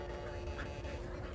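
Ducks quack faintly outdoors over a constant background hum, with a few short calls close together.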